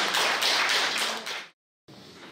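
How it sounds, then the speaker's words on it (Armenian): Goris residents applaud as their community head arrives at court, a dense crowd clapping loudly and steadily for over a second before it cuts off abruptly, then resumes after a short silence. "գորիսեցիները իրենց համայնքապետին ծափերով են դիմավորում"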